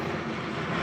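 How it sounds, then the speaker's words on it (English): Airplanes fly overhead at a sewer work site, a continuous low broadband engine roar filling the background with no talking. "We got a whole bunch of airplanes flying overhead too"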